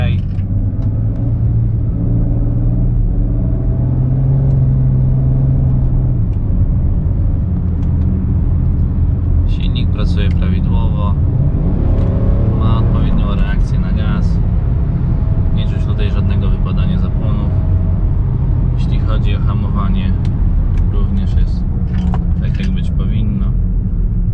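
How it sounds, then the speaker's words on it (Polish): A BMW 335i E92 with the N54 engine cruises on a short test drive, giving a steady low cabin rumble and road noise, while someone talks over it throughout. "Jestem w tej chwili na krótkiej jeździe próbnej,"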